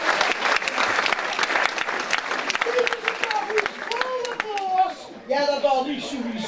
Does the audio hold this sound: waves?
no